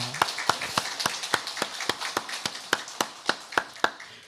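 A church congregation claps during a Sunday service, a series of sharp, fairly regular claps in a steady rhythm, moderately close, with no voices over them.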